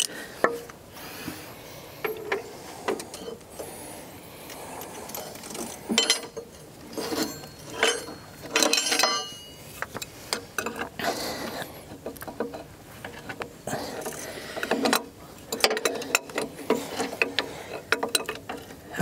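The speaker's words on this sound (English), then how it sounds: "Can you hand me that half inch ratchet?" A half inch ratchet at work during a truck repair, giving close, irregular bursts of clicking and metallic clatter amid shop handling noise, with no talk.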